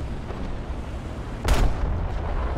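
Artillery shelling in the War Thunder tank game: a single loud, close boom bursts out of a steady rumbling battle bed, with broadband crackle around it.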